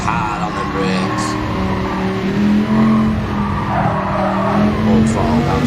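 A GR4 race car brakes hard at Suzuka circuit, tires squealing over a loud engine note, with a voice talking over it.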